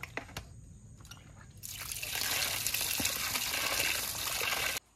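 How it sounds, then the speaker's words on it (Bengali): Water runs and drips while freshly cut rohu fish is washed in a home kitchen, starting with scattered drips, then swelling into a steady splashing stream before stopping abruptly near the end. "মাছটাকে এখন ভালো করে ধুয়ে নেব।"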